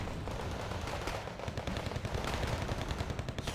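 Mortar and gunfire in the video game Wargame Red Dragon, a steady rumble of repeated blasts and rattling shots at moderate distance, with no talk.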